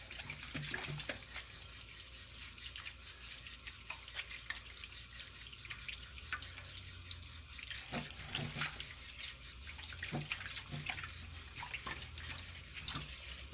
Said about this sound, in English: And add in cold water to it.